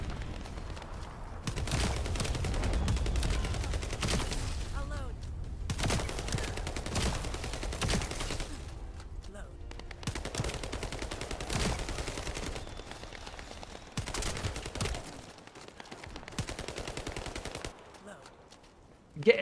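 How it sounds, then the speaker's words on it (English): Freyna's toxic machine gun ultimate in the video game The First Descendant, rapid sustained automatic fire in long bursts separated by short pauses, loud and close. "She has a toxic machine gun that she uses."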